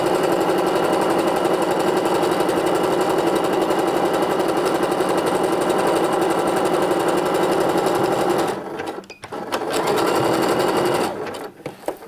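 Sewing machine stitching a seam on Sidney trousers, a loud, steady mechanical whir running continuously, briefly pausing twice before resuming near the end.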